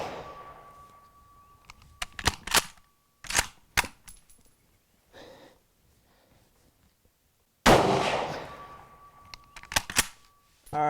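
A bolt-action rifle fires TulAmmo 7.62x54R rounds from a bench rest, with sharp, loud reports ringing out alone, separated by quiet gaps and handling clicks.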